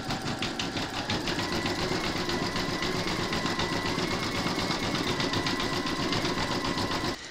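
An embroidery machine stitches a satin stitch border on a large appliqué flamingo, running as a steady, dense mechanical whir with rapid stitching pulses that holds level throughout and then stops at the very end.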